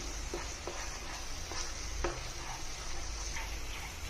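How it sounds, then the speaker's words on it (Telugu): Egg masala curry being stirred in a pan, soft scraping and light ticks of the spoon against the pan over a faint steady sizzle, quiet and close. "ఇప్పుడు దీన్ని మనం మంచిగా మిక్స్ చేసుకోవాలండి."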